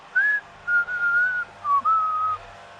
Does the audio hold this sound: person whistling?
yes